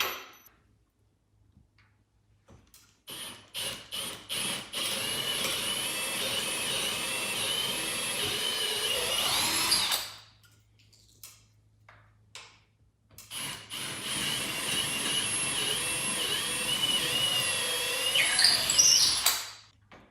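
A power drill bores pilot holes for four-inch lag screws while mounting a hoist on a garage ceiling, giving two long, steady high-pitched whirring runs of several seconds each, separated by a quiet pause and shorter bursts.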